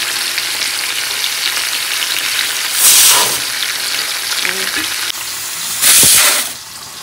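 Tofu frying in hot splattering oil in a home kitchen, a steady dense sizzle throughout with two louder bursts of spitting crackle partway through, close and alone without talk.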